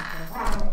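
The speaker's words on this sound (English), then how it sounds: "Sorry about the dogs." Dogs make a short burst of whimpering and yipping barks, loud and near, over a brief moment of background chatter from people in the room.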